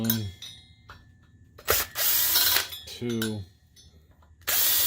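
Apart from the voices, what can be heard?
screws being removed from heatsink strap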